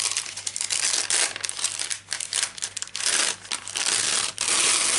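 Paper backing peeled off fusible web on a strip of fabric, a continuous close crinkling and crackling that pauses briefly a few times, with no talk.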